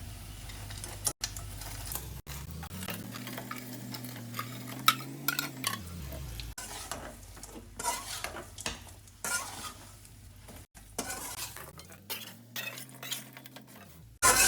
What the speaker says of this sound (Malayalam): ഇനി നമുക്ക് വറുത്ത മീൻ ഇതിനകത്തേക്ക് ആഡ് ചെയ്യാം